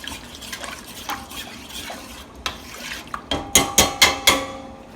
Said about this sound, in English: Stir your plant milk in.